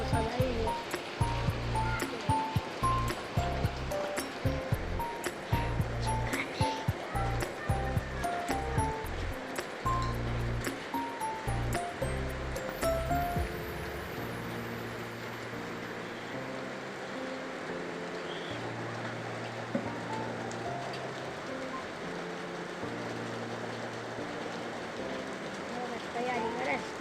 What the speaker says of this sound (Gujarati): ફૂલ એટલે ધોધમાર વરસાદ આવી ગયો.